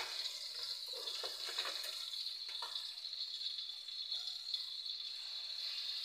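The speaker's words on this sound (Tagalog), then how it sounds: "So, ipa-fry ko muna siya" Chicken frying in a pan gives a steady, bright sizzle with faint crackles and small pops throughout, close and continuous with no voices.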